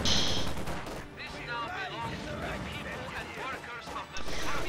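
Machine gun fire rattles in the strategy game Company of Heroes during a Reign 9 match, dense crackling bursts and explosive thumps in a busy battle mix, with a caster speaking continuously over it.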